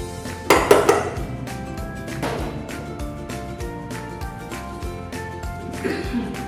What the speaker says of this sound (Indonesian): Diaduk dulu sampai tercampur, baru kemudian dimasak sampai mengental